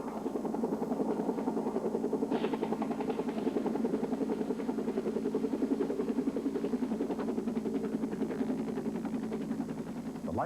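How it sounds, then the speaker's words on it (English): A Life Flight medical rescue helicopter arriving, its rotor thudding in a rapid, steady pulse with a droning engine, loud and sustained throughout. "The Life Flight helicopter arrived from Portland in less than 15 minutes."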